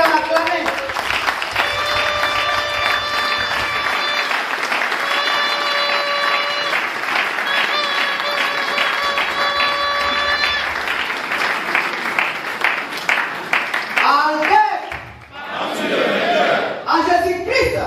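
Sustained applause from a large audience at a gathering welcoming standing permanent secretaries, steady dense clapping with musical tones over it, fading into talk near the end.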